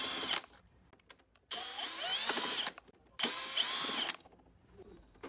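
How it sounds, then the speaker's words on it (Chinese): An electric screwdriver whirs in two or three short bursts, each a couple of seconds long, as it removes screws from an air conditioner casing, with quiet gaps between them. "然后用起子机或者螺丝刀把这些螺丝全部拆掉。"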